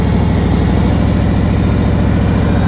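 A motorcycle engine runs at a low, steady rumble while the bike rolls slowly at about walking pace. The sound is close and continuous with no talk.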